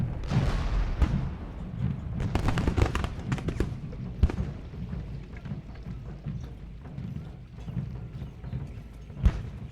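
Artillery cannons fire in a Civil War strategy video game, a scattered series of booms and cracks over a busy battlefield din, with a few sharper, louder reports standing out.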